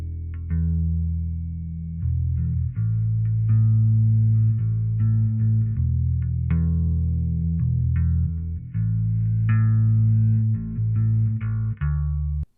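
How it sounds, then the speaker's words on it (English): Recorded bass guitar track from a Fender Tone Master Pro session, a steady run of sustained low notes with clear attacks, loud and close with a touch of effects, playing alone without talk. "Then I put down the bass track,"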